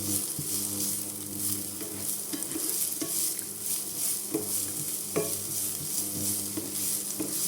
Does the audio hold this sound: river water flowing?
no